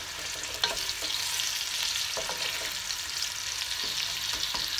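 Onions sizzling steadily in plenty of olive oil for a Moroccan chicken tagine, with a few soft scrapes and clinks of a spoon stirring them in the pan, close and continuous with no talk.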